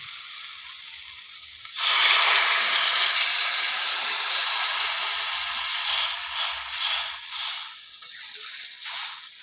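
Water poured into a hot pan of rohu fish curry with kohlrabi on a wood-fired stove erupts in a sudden loud hiss and sizzle, then bubbles and steams on, gradually easing.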